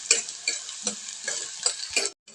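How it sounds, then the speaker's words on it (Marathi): Ground spice paste stirred into sautéed onions for a sprouted horse gram (hulga) curry, with about six scraping spoon strokes in a steady rhythm over a soft sizzle. "आपला कांदा चांगला परतून झालेला आहे तर त्याच्यामध्ये मी वाटण ॲड करते"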